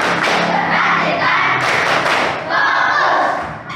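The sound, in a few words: children doing the tepuk fokus clapping routine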